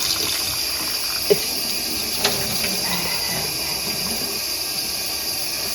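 Tap water runs steadily while dyed cotton yarn is washed out with washing-up liquid, a continuous splashing hiss with two faint knocks partway through and no talking.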